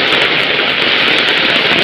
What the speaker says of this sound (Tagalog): sobrang lakas po ng ulan dito